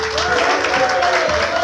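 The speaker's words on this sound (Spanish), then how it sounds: "Dale un aplauso al Señor." A church congregation applauds the Lord in steady, dense clapping that fills the short moment, with a sustained tone and voices carrying through underneath.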